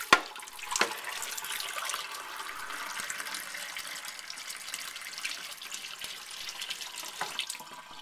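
Water runs steadily from a faucet into a cup, a continuous close hiss and splash lasting several seconds with small sloshing bursts at the start and end.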